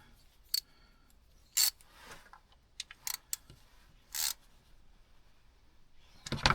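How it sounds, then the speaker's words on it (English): A small ratchet tightens the valve adjustment nuts on a Kubota three-cylinder diesel engine, giving a handful of short, crisp clicking bursts spaced irregularly, fairly quiet and close, with near silence between them. "I like to use a small ratchet so we don't over tighten them"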